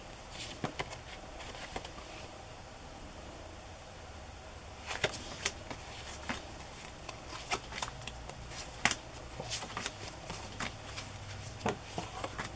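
Stiff vintage playing cards handled and shuffled in a stack, giving quiet papery flicks and riffling clicks in irregular bursts, close by with no talk.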